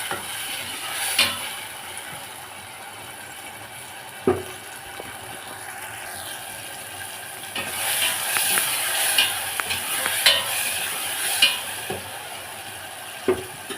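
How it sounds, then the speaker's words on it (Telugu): Tomatoes cook in a pan for an aloo chicken curry, a soft steady sizzle broken by several scraping stirs of a spoon at irregular intervals. "టమాటా త్వరగా మగ్గిపోతుంది ఒకసారి మళ్ళీ కలుపుకొని ఒక టూ మినిట్స్ ఉంచుదాం"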